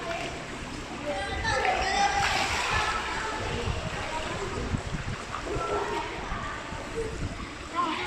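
Children swimming splash and slosh water steadily throughout, the busy splatter running continuously under their chatter and calls.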